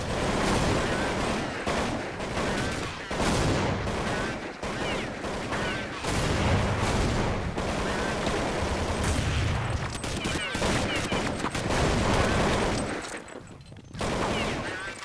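Rapid, dense bursts of automatic gunfire from Counter-Strike 1.6 on de_dust2 crackle almost continuously, with brief pauses between volleys and a few booming shots mixed in.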